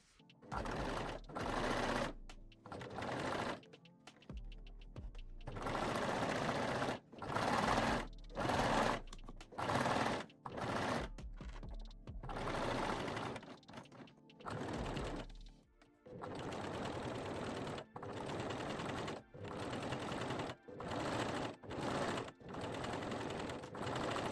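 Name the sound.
serger and cover stitch sewing machine sewing lingerie seams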